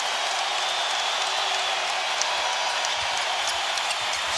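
A sellout arena crowd at American Airlines Center roars steadily after the Dallas Mavericks beat the Miami Heat in Game 1 of the 2006 NBA Finals, a dense, unbroken wall of cheering and applause.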